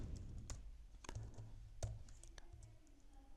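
Rapid keyboard typing on a computer keyboard while entering HTML form code, with sharp, irregular key clicks and a few louder strikes over low background hum, close and steady throughout.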